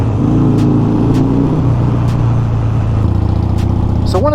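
A Harley Sportster motorcycle engine idles with a loud, low, rumbling throb, then blips in a brief rev near the end, recorded up close with no one speaking.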